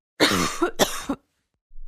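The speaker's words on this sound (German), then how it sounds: "Du solltest diesen Husten wahrscheinlich untersuchen lassen." Two harsh coughs from a woman, close and loud, each lasting about half a second with a brief gap between them, followed by quiet.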